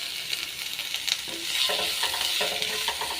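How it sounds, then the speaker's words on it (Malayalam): Onion and green chillies frying in a pan with ginger, a continuous hissing sizzle with soft stirring scrapes, close up and steady. "സവോള ആഡ് ചെയ്യാം അതിൻ്റെ കൂടെ പച്ചമുളകും ആഡ് ചെയ്യാം"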